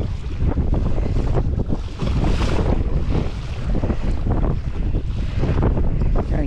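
Strong gusting wind roars across the microphone on Wilson Lake while choppy waves slap against a kayak, a loud continuous rush with no voices.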